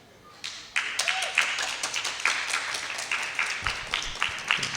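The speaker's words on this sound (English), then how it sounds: "That got the loudest clap from the elections committee desk." Applause from the elections committee desk at a student union hustings, a small group clapping in quick, steady, close bursts that carry on throughout.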